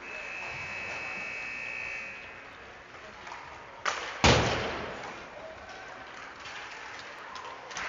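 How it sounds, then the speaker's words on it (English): Warm-up buzzer sounding in a rink at a junior ice hockey game, a long steady tone at first followed by a sharp thud and arena clatter, with faint crowd noise around it. "All right, that buzzer is"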